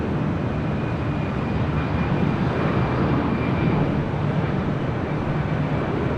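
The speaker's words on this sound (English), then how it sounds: "Next arrival is the JetBlue in the Boston Red Sox livery, flight 535 A320 coming in from San Francisco." A JetBlue Airbus A320 in Boston Red Sox livery, arriving at LAX from San Francisco, gives off a steady, loud broadband jet roar that holds for the whole stretch with no pauses.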